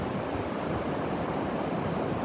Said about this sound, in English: The waves are rolling in, but the wind has subsided.